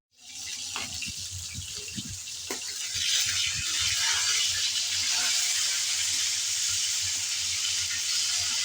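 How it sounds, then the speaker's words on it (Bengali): Rohu fish pieces frying in hot oil for a festive-style bhuna, with a few light taps at first, then a loud, steady hiss of sizzling that swells after a few seconds and holds. "একটা সাইড ভাজা হওয়ার পর আমি আরেকটা সাইড উল্টিয়ে দিচ্ছি।"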